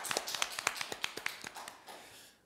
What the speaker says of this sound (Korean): 우리 하나님께 모든 영광 박수로 올려드리겠습니다